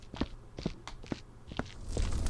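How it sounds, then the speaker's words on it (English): Footsteps in the video game Viscera Cleanup Detail, a quick run of about six distinct steps at a steady walking pace, fairly close and clear, with no talk over them. "I think I am hearing the occasional weird footstep"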